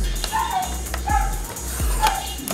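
Dogs bark a few times in short, separated bursts, fairly near, with some yipping in between.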